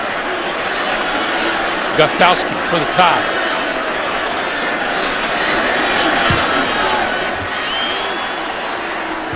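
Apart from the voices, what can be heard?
Buffalo crowd booing the officials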